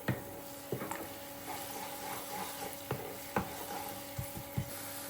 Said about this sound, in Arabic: هلا بس يتقلع عندي شوي الثوم ما لازم نحرقه